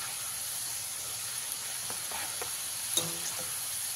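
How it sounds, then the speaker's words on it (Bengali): Shredded potatoes deep-frying in hot oil give off a loud, continuous, even sizzle and hiss, with a few faint clinks of a utensil turning them partway through. "এইভাবে উল্টে পাল্টে খুব সুন্দর করে আলুগুলো আমি ভেজে নেব।"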